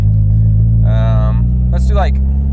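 A Mazda Miata drives in second gear toward 4,500 RPM, its engine a steady, loud low drone heard from inside the cabin while someone talks over it briefly.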